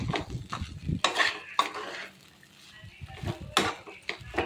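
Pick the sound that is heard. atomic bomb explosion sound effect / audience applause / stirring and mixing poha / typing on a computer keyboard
stirring and mixing poha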